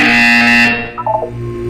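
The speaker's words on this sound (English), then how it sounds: "When you hear the buzzer, look up at the ceiling." A Portal 2 test-chamber buzzer sounds as a loud, steady electronic drone with strong harmonics for most of a second, then cuts off and leaves brief tonal blips against a low background hum.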